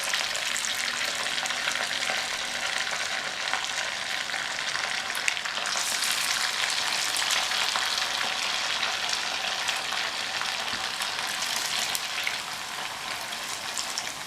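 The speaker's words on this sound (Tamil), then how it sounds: "ஒவ்வொரு உருண்டையாக எடுத்து உள்ளங்கையில் வச்சு இப்படி நல்லா ப்ரெஸ் பண்ணி எண்ணெயில் சேர்த்துடலாம்" Pressed aval (flattened rice) vadai fry in hot oil in a kadai, a loud, dense, continuous bubbling sizzle heard up close with no voices.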